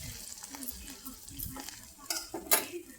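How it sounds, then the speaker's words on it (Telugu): Onions and curry leaves sizzle in a pan while a spoon stirs and scrapes, with intermittent metallic clinks against the pan, close and moderately quiet. "ఇలా ఆనియన్స్ని కొద్దిగా వేయించుకోవాలండి. ఆ తర్వాత మనము కరివేపాకు వేసుకుందాం."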